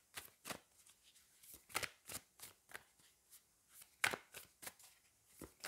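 Oracle cards being shuffled by hand in a rapid series of crisp riffling flicks, some stronger than others, close and fairly quiet with no talking.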